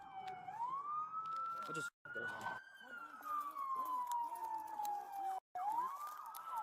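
An ambulance siren wails steadily at the scene of a shooting injury, a single sweeping tone rising and falling over about seven seconds with two brief dropouts, loud and close, while people speak urgently over it.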